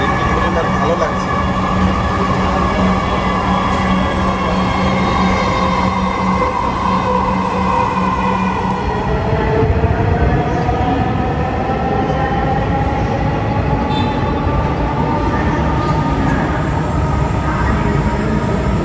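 A Dhaka metro rail train at Uttara Diabari station: a loud, steady rolling rumble with whining, shifting motor tones, and someone talks over it.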